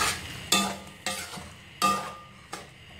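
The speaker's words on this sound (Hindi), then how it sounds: "दही शामिल करने के बाद मैं इसको करूँगी मिक्स।" Yogurt being mixed into a spiced potato masala for biryani, with four distinct stirring strokes spaced about half a second to a second apart, each a soft scrape and squelch that fades quickly, close by with no talk.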